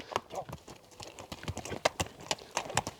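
A Kyrgyz racehorse offered for sale clip-clops nearby in a quick, uneven series of sharp hoofbeats, with a voice talking over it.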